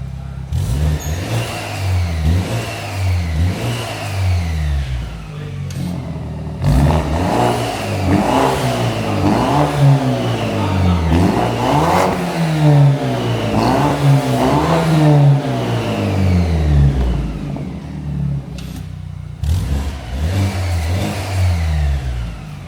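A BMW F30/F32 4 Series with an upgraded exhaust revs repeatedly, rising and falling in loud, throaty swells that pause briefly and then return, with its valved exhaust switched on and off.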